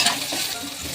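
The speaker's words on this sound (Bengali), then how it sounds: "দিয়ে ক্যাপসিকামটাকে আমি একটু ভালো করে ভাজা করে নেবো।" Sliced capsicum frying in hot oil for a chilli potato dish, giving a steady close crackling sizzle throughout the brief moment with a soft stir.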